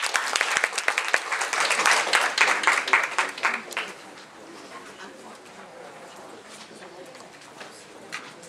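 An audience applauds to welcome a doctor at a seminar on anti-aging health for seniors, dense clapping that fades out halfway into quieter room noise.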